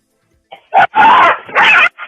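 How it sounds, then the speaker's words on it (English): A dog barks in a played clip, several short harsh barks and yelps close together, loud and near, with no talk over them. "Poor doggy."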